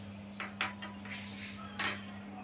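Metal measuring spoons clink against a cup or bowl while spices are measured out for a chicken recipe. A few light, close taps ring out separately over a low steady hum.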